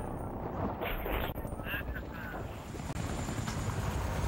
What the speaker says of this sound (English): what the hell is that helicopter doing?